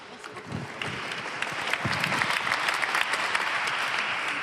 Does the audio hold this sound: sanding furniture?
no